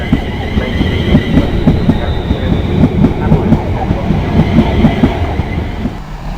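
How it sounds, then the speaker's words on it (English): British Rail Class 350 unit 350-262 pulling out of Birmingham International station, a loud, close, steady rhythmic clickety-clack of wheels over rail joints under a rolling rumble, with a voice speaking over it. "Now just leaving Birmingham International, 350-262 with the 1605 London Euston Birmingham New Street."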